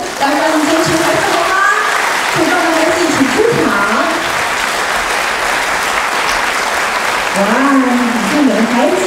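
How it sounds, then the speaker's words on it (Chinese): An audience gives loud, sustained applause as children come on stage before a performance, the clapping filling the room throughout while voices call out over it. "让我们热情的掌声来欢迎这些孩子们"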